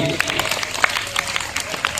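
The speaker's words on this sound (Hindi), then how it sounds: "इनके लिए जोरदार ताली हो जानी चाहिए" Applause at a school Independence Day gathering at a government senior secondary school in Palanakhurd, sharp scattered claps running steadily beneath a talking voice.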